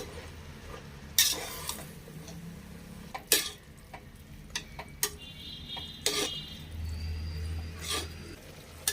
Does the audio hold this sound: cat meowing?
no